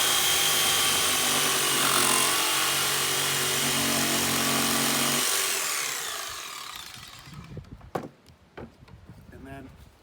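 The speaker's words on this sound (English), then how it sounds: "Okay, so I'm going to use a jigsaw on this." A jigsaw saws through PVC pipe with a loud, steady, rasping buzz for about five seconds, then winds down and stops, leaving a few faint knocks and handling sounds.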